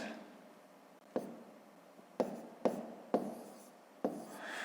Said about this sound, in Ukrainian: Тепер над одним кінцем відрізка пишемо число 0.